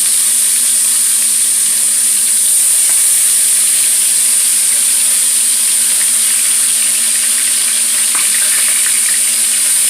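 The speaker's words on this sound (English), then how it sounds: "we have hot grease in this pan. We're just going to go ahead and add our chicken" Chicken pieces frying in hot grease in a pan, a loud, dense, unbroken sizzle with a steady hiss and faint crackles throughout, no one talking.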